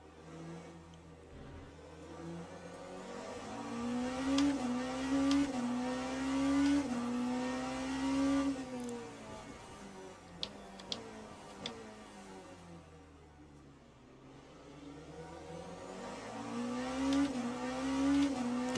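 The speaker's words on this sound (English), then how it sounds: "Thirteen hypercars out on track here." Several hypercars race around the Bahrain circuit in Le Mans Ultimate, engines droning and shifting pitch as they rise and fall through gears, with a few sharp ticks partway through; steady, moderately loud, with no talk.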